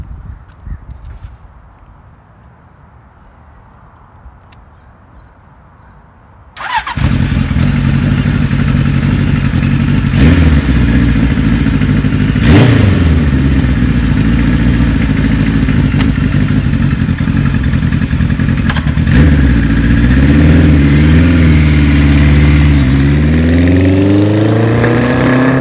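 A 1975 Kawasaki Z1900 motorcycle engine catches after a quiet lead-in, then runs loud and close with repeated revs rising and falling over a steady idle, outdoors on a driveway.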